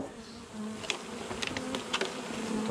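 Honeybees swarm around a hive box as a new feeder box is set on top. Their soft, continuous buzz is punctuated by louder passes as individual bees fly close.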